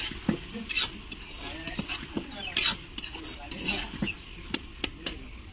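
Tomatoes with vegetables are stirred and fried in a pan for an egg paneer curry, giving quiet scraping and irregular spoon clinks and taps against the pan, with a soft sizzle underneath and no talking.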